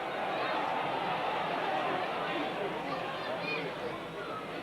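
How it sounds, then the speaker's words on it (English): Crowd at a 1991 Featherstone Rovers v Leeds rugby league match reacting in a steady, dense roar of murmuring voices, broad and sustained throughout with no single voice standing out. "you can hear the crowd there that think that Bibb touched that ball"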